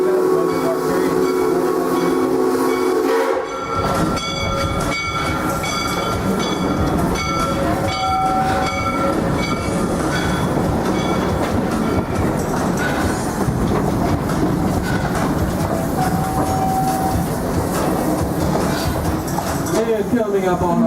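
The Kings Island Miami Valley Railroad amusement park train rolls along its tracks, a steady loud rumble with rhythmic clatter and occasional brief squeals, while a guide talks over it.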